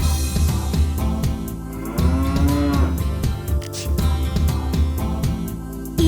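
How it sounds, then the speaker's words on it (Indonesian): A cow moos in a children's farm song, with drawn-out lowing calls over a bouncy, busy musical backing that plays throughout. "di peternakan ada sapi"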